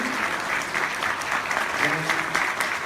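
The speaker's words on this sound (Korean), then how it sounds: "뜨거운 박수로서 환영해 주십시오" Indoor audience at a public forum claps to welcome a philosophy professor, a short run of moderate, somewhat uneven applause heard at some distance, with a voice faintly underneath.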